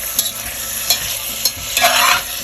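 Stirring kielbasa hash with garlic, sausage and vegetables in an oiled frying pan: close scraping strokes of a utensil at a loose rhythm over a constant soft sizzle, with no talking.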